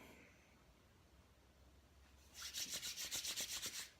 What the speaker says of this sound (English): Rubbing your hands together to raise some energy, to spark that energy inside yourself.